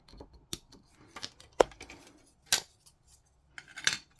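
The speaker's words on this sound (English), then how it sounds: "I'm trying to be careful about how I cut these out because it's kind of on curves." Scissors snip through plastic model kit parts, carefully trimming along curved edges: a handful of sharp, separate clicks and cuts spaced irregularly across the moment, fairly close, with quiet gaps between them and no talking.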